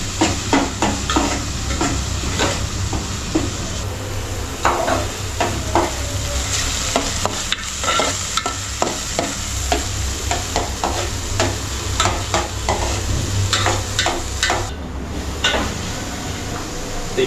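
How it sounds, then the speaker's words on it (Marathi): Masala paste sizzles in oil with tomatoes in a pan, with a steady frying hiss broken by frequent scraping strokes of a stirring spoon, close and fairly loud. "आता वाटप पण चांगलं आपण जो तेल टाकलाय, टोमॅटो टाकलाय ना, त्यामध्ये आपण चांगलं फ्राय करून घेऊ"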